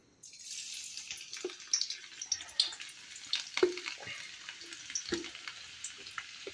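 Garlic fries in a pan for a Manchurian gravy, a steady bright sizzle with scattered soft stirring knocks and scrapes, close and fairly quiet, no voices.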